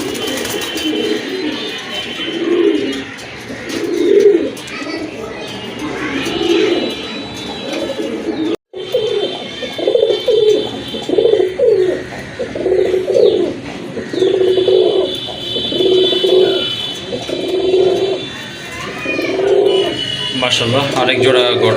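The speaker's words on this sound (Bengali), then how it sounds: "এই যে দেখেন সুপার কোয়ালিটি সুপার কোয়ালিটি এক জোড়া কবুতর দেখার মতো" A pair of pigeons, up close in a market stall, gives steady rhythmic cooing, repeated low throaty calls at a regular pace, while someone talks continuously over them.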